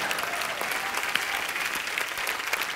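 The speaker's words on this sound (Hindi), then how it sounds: "जोरदार तालियां।" Loud, steady applause from a large audience, dense clapping that continues without pause.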